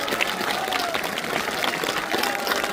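An audience at a political rally stage in Shariatpur breaks into applause to welcome Awami League leaders, a continuous crackle of many hands clapping at moderate distance with a faint crowd murmur underneath.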